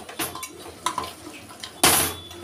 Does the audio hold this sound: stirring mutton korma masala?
yes